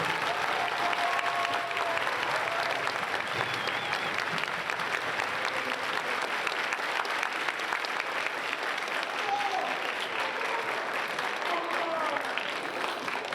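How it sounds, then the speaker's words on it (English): Audience at a high school indoor percussion championship awards ceremony giving family members a big round of applause, steady continuous clapping across the whole stretch, even and moderately distant. "let's have a big round of applause for them, students"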